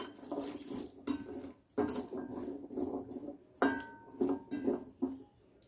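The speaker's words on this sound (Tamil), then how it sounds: "இப்போ இதுல கொஞ்சமான தண்ணி விட்டுக்கலாம்." Water poured into a pan while cooking channa masala, with splashing and gurgling, interrupted by a few clinks of metal cookware, fairly quiet and close.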